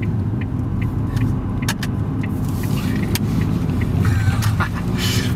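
Learner car coasting around a corner with the clutch down, a steady close interior rumble of road and tyre noise with a low engine hum and a few faint clicks, with no talk.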